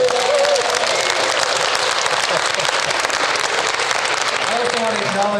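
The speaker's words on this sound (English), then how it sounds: "So let's give one more big round of applause to T." Sustained applause from an audience at a community recreation program event, loud and dense throughout with some crowd voices mixed in.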